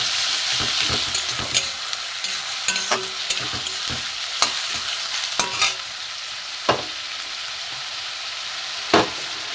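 Grated onions with garlic paste fry in a pan for a panch phoron chicken, a bright steady sizzle punctuated by repeated spatula scrapes and taps against the pan, close up with no talking.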